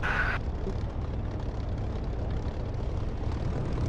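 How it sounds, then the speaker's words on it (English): A propeller aircraft taxis in a flight simulator game, with a steady, loud engine drone and airflow holding throughout. A brief higher whine sits at the very start. "make a habit of taxiing off the runway as soon as you can"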